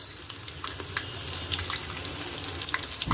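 Dried red chillies, cashews and asafoetida sizzle in hot oil in a pressure cooker for ven pongal, a dense continuous frying crackle with occasional light spoon stirs, close and fairly loud.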